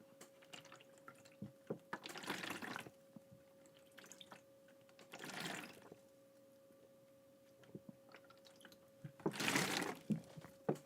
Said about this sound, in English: I'm gonna drink some water